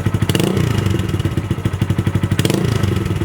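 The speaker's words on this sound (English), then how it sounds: "we're gonna just start it and see how it sounds with the exhaust just slipped on" A Honda Grom motorcycle engine with a newly fitted exhaust runs close by, loud and throbbing, its rapid pulses thumping steadily and swelling in a couple of brief revs.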